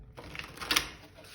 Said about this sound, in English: I'm just giving the deck a little shuffle.